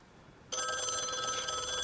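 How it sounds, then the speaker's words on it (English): A telephone bell starts ringing abruptly about halfway through, loud and sustained with a bright, steady metallic trill and no talk over it. "At that moment, the phone rang, and Leonard answered it."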